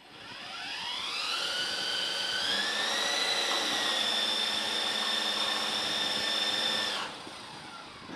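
The electric motor and rotor of an RC helicopter spin up on the ground, the whine climbing in pitch, then holding steady and loud for several seconds before dropping away sharply near the end.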